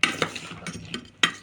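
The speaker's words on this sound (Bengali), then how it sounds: "এরপরে চামচ দিয়ে ভালো করে এটাকে মাখিয়ে নেব।" A spoon mixes and mashes boiled chickpeas with spices in a bowl. It makes a few sharp clinks against the dish, with soft squelching strokes between them, close and alone.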